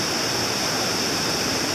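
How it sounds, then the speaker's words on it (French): A mountain torrent in the Cévennes rushes steadily nearby, a dense, continuous roar of churning water with no other sounds. "Il est magnifique ce torrent."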